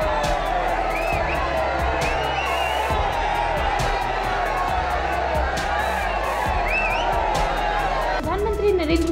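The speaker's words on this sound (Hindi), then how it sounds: "यहाँ के लोग भी जोर जोर से नारे लग रहे हैं। प्रधानमंत्री के लिए ये नारे लगाए जा रहे हैं।" A dense, loud crowd at Prime Minister Modi's roadshow in Kerala roars and shouts slogans continuously, a thick wall of voices and cheers pressing close throughout with no break.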